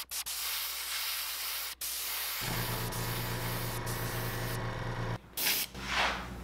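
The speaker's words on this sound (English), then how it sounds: "So you gotta check that every time before you start spraying." Airbrush spraying paint onto a weedless lipless jerkbait lure, a steady close hiss that changes pitch midway, broken by brief pauses, with a short burst of air near the end.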